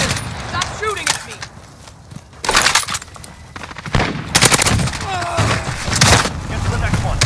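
Rapid automatic weapon fire in a Call of Duty Modern Warfare Hardpoint multiplayer match, loud bursts of machine-gun shots in several clusters with booming impacts, mixed with in-game voice callouts.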